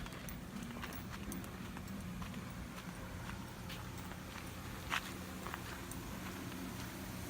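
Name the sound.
horse hooves walking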